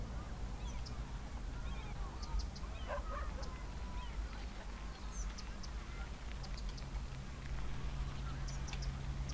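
Game-style chicken calls in Cities: Skylines, honking and quacking chirps, repeat over a steady low hum and background music, moderately loud throughout.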